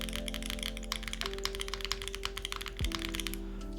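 Rapid, soft keystrokes on a custom gasket-mount, leaf-spring mechanical keyboard with a copper finish, a steady close-up clacking run with a low tonal hum and a brief thunk near the end, no voices.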